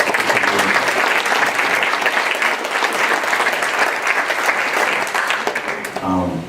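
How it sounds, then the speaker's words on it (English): A conference audience applauds steadily for about six seconds, dense clapping from a full room that tapers slightly at the end. "I'll also please give a round of applause to the folks at Tactica and Flurry."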